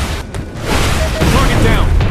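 A truck blows up in the Warplanes: Air Corp flight game, a loud rumbling boom with crackling debris, while a voice speaks over it.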